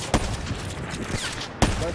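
Sniper rifle fire in a video game gunfight: two sharp, loud shots spaced about a second and a half apart over busy game noise.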